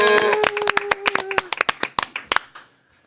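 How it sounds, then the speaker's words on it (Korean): A short burst of studio audience applause welcoming a politician, sharp claps that thin out and fade to quiet, with a voice trailing off at the start. "정치계 3순 박지원 의원님을 박수로 모시겠습니다."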